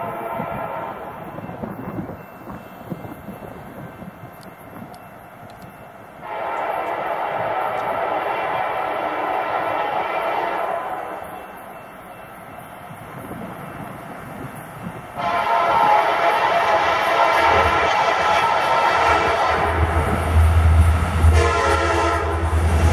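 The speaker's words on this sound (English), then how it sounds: "This train is a high priority intermodal heading north to Chicago." CSX Q029, a high-priority northbound intermodal freight train bound for Chicago, rumbles past with a steady roar of railcars, while its horn sounds in loud, sustained blasts during two stretches, the second closer and heavier.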